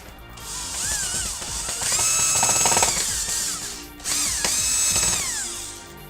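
A power drill drives screws to fix a black grille onto a PlayStation 3, whining loud and close in two long bursts that rise in pitch as each screw runs in, with a brief gap between, no talking.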